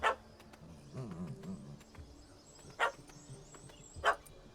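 Puppy barking in The Witcher 3 video game, a few short yaps and a brief whimpering stretch, moderately close over quiet game ambience with no talk.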